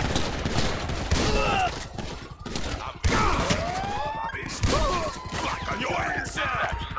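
Shotgun blasts boom repeatedly in a GTA 5 zombie mod, dense overlapping gunfire with crashes and groans filling the scene loudly for several seconds.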